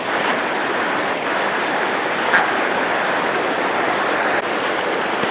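Floodwater after heavy rain rushes in a steady, loud broadband roar, continuous and close, with no pauses, and a faint dog bark briefly breaks through.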